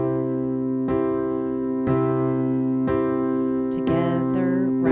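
A piano plays a marching together-right rhythm in 4/4, with sustained chords struck about once per second and a brief higher flourish near the end, heard solo.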